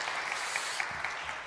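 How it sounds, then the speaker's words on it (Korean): A church youth service congregation claps steadily in a short, moderately distant burst of applause, with a faint murmur underneath. "박수할까요?"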